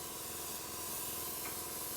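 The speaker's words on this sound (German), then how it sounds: "die etwas dickere Farbe noch raussprühen, die sich vorne an der Düse angesammelt hat" An airbrush sprays thicker paint that has collected at the nozzle, a steady close hiss of air and paint running without a break throughout.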